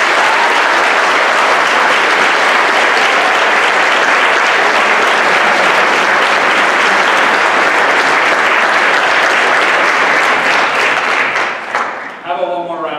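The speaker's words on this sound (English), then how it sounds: "Go give Rick and Amos one more big hand." A school assembly audience at an anti-bullying presentation gives long, loud, sustained applause that fills the room, then it drops away near the end as a voice begins speaking.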